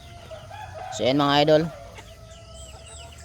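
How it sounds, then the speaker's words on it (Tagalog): Chickens cluck softly in the background while someone speaks briefly over them, a short loud call rising in the middle. "papakain na naman tayo sa ating mga alagang manok."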